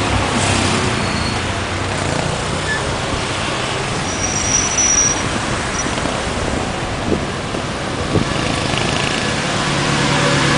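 Heavy traffic on a congested Brasília road, with many cars queued on the lanes and shoulder. The dense, continuous roar of engines and tires holds steady and fairly loud, with occasional passing swells.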